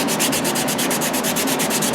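Sandpaper rubbing rhythmically back and forth over a handmade wooden Native American flute, working out 80-grit scratches; steady, close, fairly loud strokes about eight per second with no talking.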